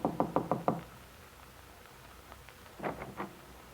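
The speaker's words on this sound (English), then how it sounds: "Getting out, she walks to the door of Bungalow B and knocks." Knocking on a bungalow door as a radio drama effect: a quick run of five crisp knocks, a pause, then three more, close and clear over faint rain-like background hiss.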